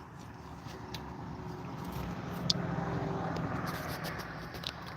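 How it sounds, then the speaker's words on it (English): Steady low road rumble as a big truck hauling a 50-foot trailer passes at a distance, a broad even roar with faint ticks and no talk. "There goes a big truck driver."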